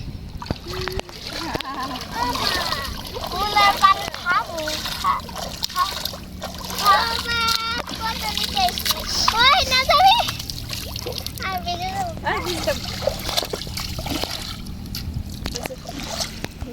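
Swimmers splash and slosh in open water on an outing, with steady splatter running throughout while several people, including children, talk and call out over it.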